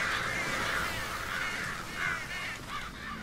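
Crows cawing in the Ghostbusters video game, a flock of harsh repeated caws overlapping in an irregular rhythm over a steady ambient background, moderately near with no speech.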